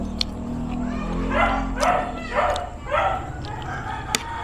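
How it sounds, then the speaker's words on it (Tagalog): A dog next door barks in a series of about four to five separate barks at moderate distance, standing out clearly over a low, steady background hum. "Ang ingay ng aso sa kabila."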